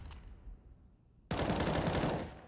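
AK rifle fire in Counter-Strike on the Mirage map, a sudden loud automatic burst after a quiet stretch with a faint earlier shot, rapid continuous rounds ringing out to the end.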